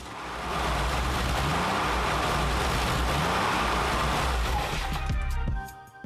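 Steady, loud engine drone from an air-cooled Porsche 993 3.6-liter boxer engine of about 321 horsepower fitted in a Karmann Ghia with a tube frame, holding a constant note for several seconds before easing off at the end.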